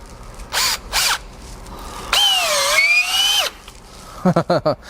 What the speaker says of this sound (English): that's the Snap-on on speed 1, and we'll see what it does here in speed 2